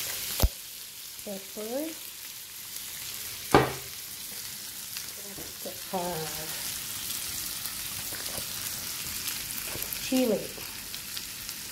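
Shrimp frying in garlic butter in a pan, a steady hiss and crackle running throughout, with a few sharp utensil knocks and a voice speaking briefly over the sizzle.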